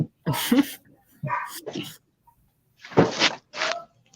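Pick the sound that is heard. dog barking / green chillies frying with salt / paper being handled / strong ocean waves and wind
dog barking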